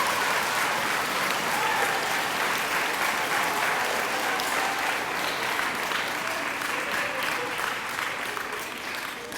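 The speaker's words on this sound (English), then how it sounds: "Give yourself a round of applause for that" Sustained applause from an audience at an elementary school event, dense and even, tapering slightly toward the end.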